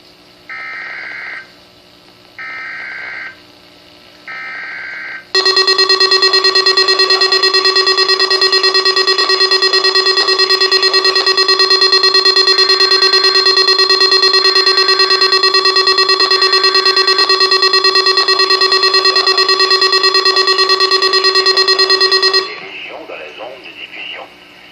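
A malfunctioning Environment Canada weather radio sounds a loud, continuous alert tone for about seventeen seconds, with steady harmonic buzzing, after three short beeping bursts; it ends abruptly into quieter radio static.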